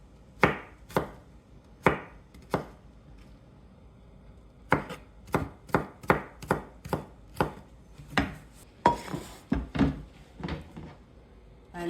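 A knife chops bunches of sukuma wiki (kale) on a board in a home kitchen, giving sharp, close, rhythmic strokes in short bursts with brief pauses between them, and no talking.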